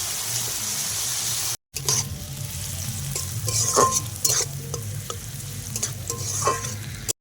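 Salted food for fried rice sizzles in a pan as a spatula stirs and scrapes, with a brief silent gap near the start and a few sharper clinks.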